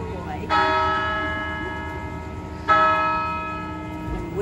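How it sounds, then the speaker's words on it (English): Church bells ring out from the North Church: two loud, resonant strikes, each followed by a long ringing decay, with faint background sound between them. "And we're hearing bells from the North Church as they go."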